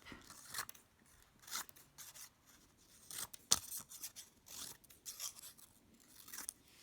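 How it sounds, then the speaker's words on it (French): Scissors snip paper cutouts of ladybugs and aphids for a children's counting activity, with a series of quiet, separate crisp cuts and rustles spaced irregularly, close and alone in a quiet room. "je vais maintenant découper les pucerons qu'il me reste"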